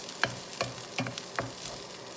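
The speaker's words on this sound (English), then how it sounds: "we're gonna fry the cauliflower rice." Cauliflower rice frying in a pan, soft sizzling broken by four distinct scraping strokes of a utensil spaced roughly every half second, close and fairly quiet.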